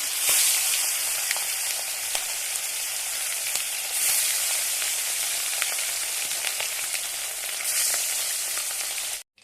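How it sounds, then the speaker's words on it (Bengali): Catla fish pieces seasoned with salt and turmeric fry in hot oil, giving a loud, steady, close sizzle with crackling pops throughout and no talk. "তেল গরম হয়ে গেছে। এবার মাছগুলো ভেজে নেব একে একে"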